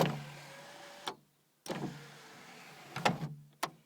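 Volkswagen Corrado electric sunroof closing: a close motor whir runs in bursts, stopping abruptly twice, with sharp mechanical clicks and a final clunk, and no talking.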